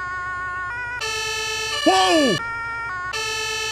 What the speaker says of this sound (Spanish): Vale, cambiar sonido de sirena.